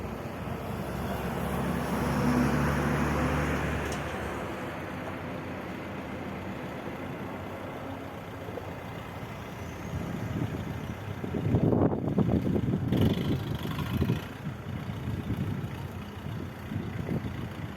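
An Orion GD 504 walk-behind tractor engine runs outdoors and pulls away, a steady moderate drone that rises again midway as it moves, without talk.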